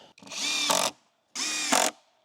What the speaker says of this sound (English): And just put a bunch of screws in here.